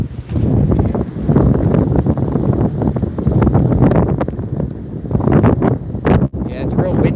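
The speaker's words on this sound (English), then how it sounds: "Yeah, it's real windy. Real windy out there. It's kicking up." Strong wind roars across the microphone during Hurricane Beryl rain bands at Port O'Connor, Texas, as a loud, continuous buffeting rumble with gusty surges, while someone talks under it.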